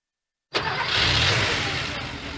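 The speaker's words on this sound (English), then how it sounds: "That's the sound of an engine running on the strength of Castrol Edge." A car engine running on Castrol Edge oil cranks to life after silence, then settles into a loud, steady idle close up with a bright hissing roar.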